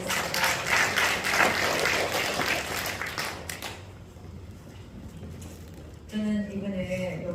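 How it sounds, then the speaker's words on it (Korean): A church congregation bursts into a loud, dense round of clapping that swells and then fades into quieter room noise, with a voice rising briefly near the end. "우리 하나님께 영광의 박수 한번 해드리겠습니다"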